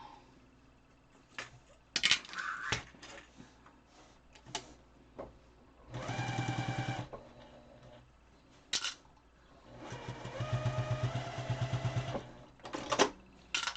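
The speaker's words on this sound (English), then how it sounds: "Let's sew this down now" Short bursts of a sewing machine stitching down the edge of an N95 mask, each run a close mechanical whir, separated by clicks, fabric handling and pauses.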